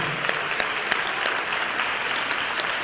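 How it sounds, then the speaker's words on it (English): An audience at a Georgia statewide social entrepreneurship conference gives a round of applause for a regent, a loud, dense, steady clapping with a few sharper individual claps standing out, and no talking. "Let's give Regent Sulit Spas a big round of applause for the outstanding job he did"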